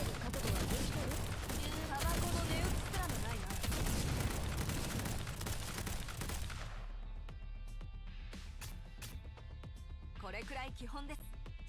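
Rifle gunfire in Girls Frontline, a dense burst of rapid shots and impacts for several seconds that cuts off abruptly, followed by quieter scattered clicks and effects with voices underneath.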